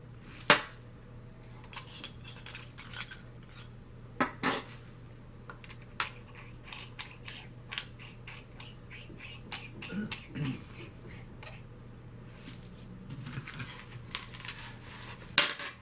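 A tactical multi-tool shovel's glass breaker strikes and scrapes against glass, giving a series of sharp metallic clinks and taps scattered irregularly over a steady background hum, close by, with no talk.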